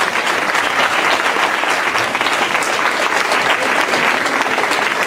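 A crowd at the Olmsted Spirit 5K race in Olmsted Falls gives a steady, loud round of applause for an 86-year-old runner, dense continuous clapping with no break.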